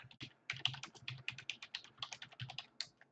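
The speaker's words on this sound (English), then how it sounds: "I'm typing here and can't think it type at the same time." Typing on a computer keyboard, a quiet close run of quick uneven key clicks and taps with short bursts and brief pauses, no voices.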